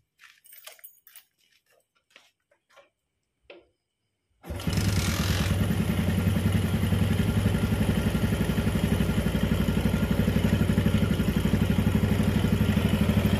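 A few faint clicks, then a Yamaha Jupiter MX motorcycle with a new Indoparts cylinder block set starts and settles into a steady, loud idle close by, running evenly to the end.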